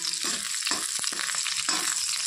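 Chopped garlic frying in hot oil, a steady close sizzle with a few scraping stirs cutting through, while leafy greens cook alongside.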